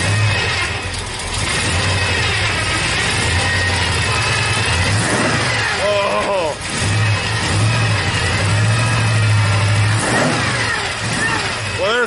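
A car engine with twin Eaton M90 superchargers idling steadily, then revving up in a few bursts, loud and close, with voices talking over it.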